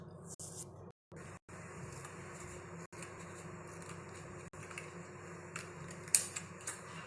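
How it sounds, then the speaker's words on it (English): Scissors cutting paper strips for a classroom craft, heard as a steady run of soft snipping and rustling with a few brief gaps, fairly quiet and close, no talk. "Now watch how the paper is cut."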